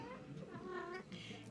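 A pet cat meows softly indoors with a drawn-out, wavering tone, fairly quiet and close, alongside faint low background sounds.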